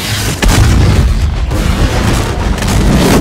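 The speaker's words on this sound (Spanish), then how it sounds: "los tipos no son inmunes a que les explote una gasolinera encima" Gas station blowing up in the film 28 Days Later, a loud, dense booming roar that surges hard at about half a second and keeps rumbling heavily to the end.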